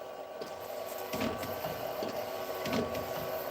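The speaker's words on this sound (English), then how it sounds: "But it's a really good printer." A DTF printer running at home, giving a steady mechanical whir with rhythmic carriage shuttling and periodic thumps, loud and close with no talking.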